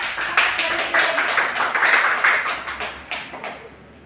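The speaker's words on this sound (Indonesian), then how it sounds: "kita kasih tepuk tangan kalau buat kelompok lain" A classroom of students claps for another group, a short burst of fairly close, loud hand claps that thins out and fades toward the end.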